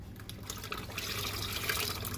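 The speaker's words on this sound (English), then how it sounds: "I'll add my meat broth." Meat broth poured into a big pot of Nigerian jollof rice, a steady liquid splash and trickle running for about two seconds, close and moderately loud, with no talking.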